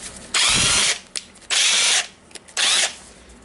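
A Makita DTW1002 cordless impact wrench, just repaired after a faulty controller wire, runs in three loud bursts of about half a second each, with its hammering rattle, separated by short pauses and a few small clicks.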